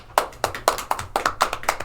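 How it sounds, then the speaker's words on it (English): A small group applauds at a school live stream, with sparse, separate claps in an uneven rhythm, sounding close and fairly loud with no talk. "So let's give them a round of applause."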